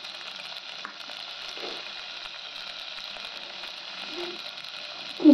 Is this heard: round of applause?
no